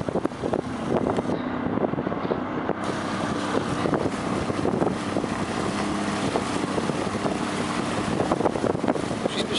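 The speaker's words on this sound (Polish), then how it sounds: "Przyspieszamy łódeczką" A motorboat speeds up on deep open water just after leaving a harbour off Norway, its engine a steady loud roar mixed with rushing water and heavy wind buffeting the microphone.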